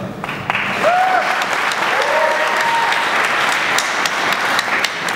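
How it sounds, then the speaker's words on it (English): A panel audience gives a round of applause at a 2012 conference session, dense steady clapping from a room full of people with a few brief voices and whoops rising over it. "give you guys a round of applause"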